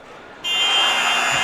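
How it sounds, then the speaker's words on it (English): A long, loud electronic buzzer blares to end a college basketball game between Ateneo and Benilde, cutting in sharply over arena noise and holding steady. "Back-to-back buzzer beaters for Torres"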